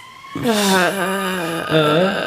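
An ambulance siren, apparently imitated by a voice: a rising and falling wail that sweeps up and down a couple of times, close and loud, in a discussion of a horror film.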